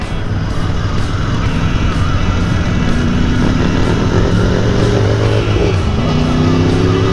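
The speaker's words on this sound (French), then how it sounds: "j'aime bien parce que Marc il met l'animation dans mes vidéos avec son gros bruit de moteur" A Royal Enfield Interceptor motorcycle engine runs loud and close, its steady drone climbing slightly in pitch toward the end.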